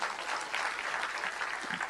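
Applause from an audience at a Tamil Nadu event honouring artists, a dense, even roar of many hands clapping throughout, moderately loud, with no pauses.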